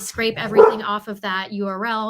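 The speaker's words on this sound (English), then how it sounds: "Apologies for my dogs that are barking" Dogs bark faintly in the background of a home setting while someone speaks steadily in the foreground, the barking mostly masked beneath his voice.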